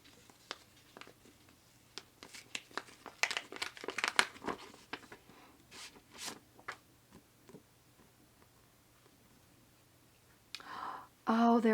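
A small paper envelope holding postcards is handled and opened, with crinkling, rustling and tearing sounds coming in irregular bursts at close range, then louder handling near the end.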